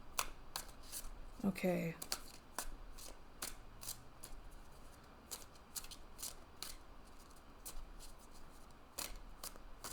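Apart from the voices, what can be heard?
shuffling tarot cards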